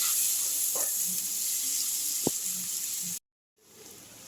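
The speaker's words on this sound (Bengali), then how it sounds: "এবার আমি এই তেলের মধ্যে একটু পেঁয়াজ ভেজে নিচ্ছি।" Onions frying in oil for birista give a steady, close hiss with faint stirring, a brief scrape near the middle, then the sound cuts to silence and resumes more quietly.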